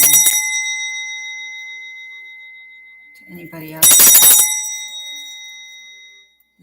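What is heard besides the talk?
brass bell being rung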